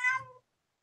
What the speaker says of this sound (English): that's the noisiest cat I've ever had